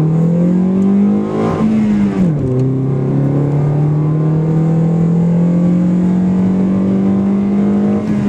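A car engine revs hard while accelerating onto a freeway. The loud, continuous drone dips briefly in pitch, as if shifting gears, then climbs steadily again, with no voices.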